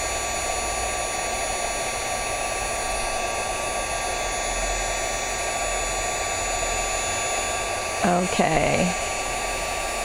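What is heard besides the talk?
dryer blowing hot air to dry a paper craft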